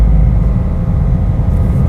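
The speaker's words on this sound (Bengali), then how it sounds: "এখন দেখি গাড়ির ইঞ্জিন অনেক বেশি শব্দ করতেছে" A car engine drones loudly and steadily in low gear while driving slowly, a dense low rumble that holds constant throughout with no voices.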